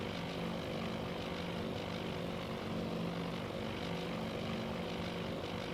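Propeller-driven torpedo bombers diving toward a target in the naval strategy game Task Force Admiral, a steady loud engine drone holding throughout with no voices.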